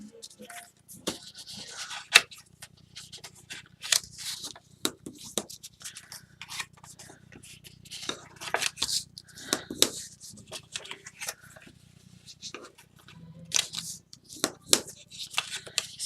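Paper favor boxes being folded by hand: soft rustling, creasing and scraping of paper in irregular bursts, with faint music in the background.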